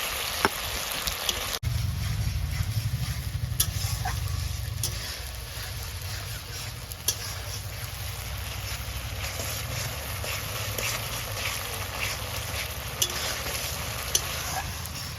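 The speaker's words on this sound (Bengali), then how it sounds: "পেঁয়াজগুলো দিয়ে নিলাম। এটা দিয়ে কষিয়ে নিচ্ছি।" Onions and spices sizzle steadily in a hot pan, a constant loud frying hiss with occasional scraping stirs, no voices.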